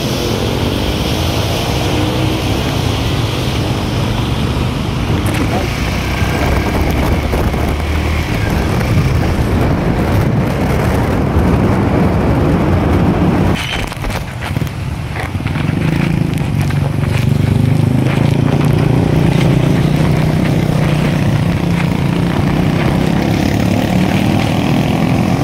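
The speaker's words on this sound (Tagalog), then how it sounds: "Okay, masyadong malakas ang hangin, ulan dito." Strong wind and rain during a flood roar steadily and loudly close by, a dense, unbroken rush with buffeting gusts and a brief dip midway.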